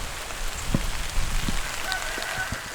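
Steady, heavy rain falls on a homestead with newly planted fruit trees, a dense even patter with occasional louder drops hitting a canopy nearby, no voices.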